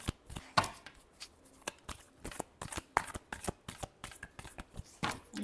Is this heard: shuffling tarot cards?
yes